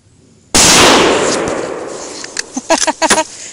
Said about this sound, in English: I was just making sure I could get a relatively steady shot.